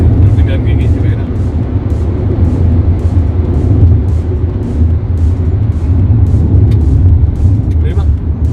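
A Wuling Cortez Turbo runs fast on a race circuit, its engine a heavy, steady drone filling the cabin while people talk over it.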